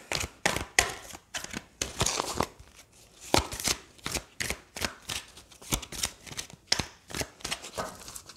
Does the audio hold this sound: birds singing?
no